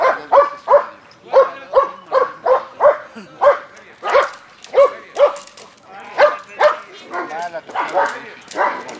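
Dog barking in repeated loud, rhythmic bursts during a first agitation (bite-work) training session at a dog club, with handlers shouting encouragement over and between the barks.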